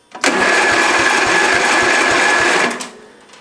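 A Murray lawn tractor engine cranks over on a weak battery, a loud, steady rapid chugging of starter turns lasting under three seconds before it cuts off, with no engine catching.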